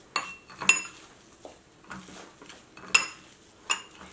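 A utensil scrapes and clinks against a bowl while potato paratha filling is mixed, giving irregular sharp metallic taps several times over a few seconds, fairly close and alone.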